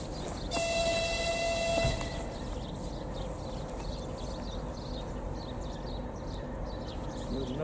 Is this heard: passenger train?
yes